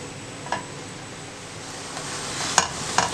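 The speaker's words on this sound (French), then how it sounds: "on va mettre un peu d'huile, on fait revenir le tout" Mushrooms frying in oil in a pan, a low steady sizzle with a few soft clicks and taps of stirring near the end, close up and alone.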